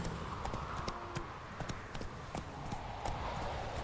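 Roach, the horse from The Witcher 3, gallops with quick, rhythmic hoofbeats over a continuous outdoor ambience, the clopping steady and fairly close throughout.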